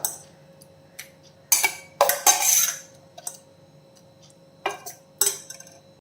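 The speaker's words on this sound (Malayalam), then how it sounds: "അത് ഞാൻ മിക്സിയുടെ ജാറിലിട്ട് കൊടുക്കാം" Soaked oats being put into a mixer grinder jar, heard as scattered light clinks and taps of utensils against the jar, a few sharper knocks among quieter ticks, close by.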